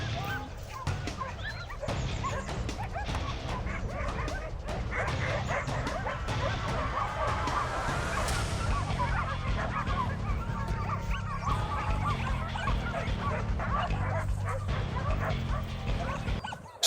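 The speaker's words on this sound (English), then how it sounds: "the hunting dogs are already on the move. Their sharp barks echo across the valley as they close in" Hunting dogs chasing a wild boar, several barking and yipping excitedly and continuously at mid distance, overlapping yelps echoing across a valley.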